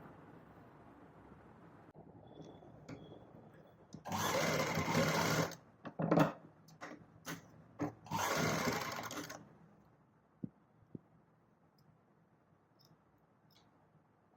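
A sewing machine runs in two bursts of stitching along a fabric strip after a shoulder seam is joined, each run lasting over a second, with quiet handling clicks and gaps between.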